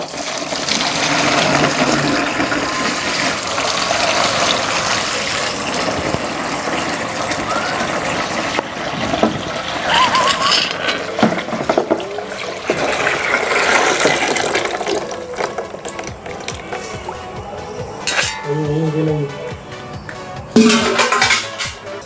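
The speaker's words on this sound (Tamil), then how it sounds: "இதில் வந்து நம்ம இப்போ தண்ணியை ஊற்றிக்கலாம்." Water is poured into a large bucket to prepare a hydro dipping bath, making a continuous gushing splash with occasional hollow knocks and clanks of the container.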